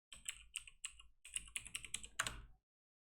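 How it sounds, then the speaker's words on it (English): Quick bursts of typing on a computer keyboard, close and crisp, with a short pause midway before a final flurry of keystrokes, then silence. "I'll just type algorithm over here."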